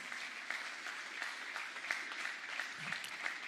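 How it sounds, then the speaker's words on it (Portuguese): A congregation applauds during a Portuguese-language church service, with dense, continuous clapping from many hands that fills the room at a steady level. "Aplauda ao Senhor"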